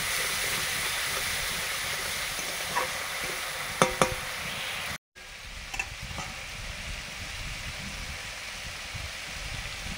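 Onion, ginger and garlic paste fries with a little turmeric in hot oil, a dense steady sizzle close by with a few clinks of a stirring spoon and a brief dropout midway.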